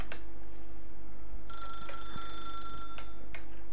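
Telephone ringing in The Stanley Parable, a bright electronic bell tone sounding in a couple of short bursts over a quiet hum, alone with no talk.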